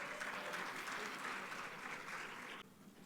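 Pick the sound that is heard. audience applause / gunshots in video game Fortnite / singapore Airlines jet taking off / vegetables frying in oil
audience applause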